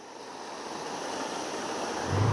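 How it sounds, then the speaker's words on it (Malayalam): Water rushing and splashing along a stream near Aanappallam, a remote Nilgiris village, a steady broad wash of flowing water with some wind noise, growing slightly louder at the end. "വെള്ളമൊക്കെ ചാടുണ്ടല്ലോ"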